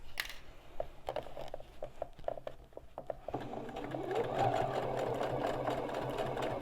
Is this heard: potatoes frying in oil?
no